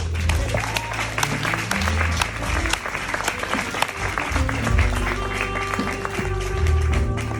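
An audience applauds to welcome speaker Sahar Andrade at the Love Awards, sustained clapping from a full room that runs loud and steady throughout.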